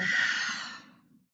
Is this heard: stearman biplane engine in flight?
no